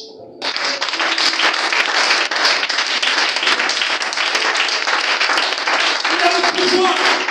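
A church congregation at a Sunday service bursts into loud, sustained applause and clapping, with voices mixed in, filling the room for several seconds without pause.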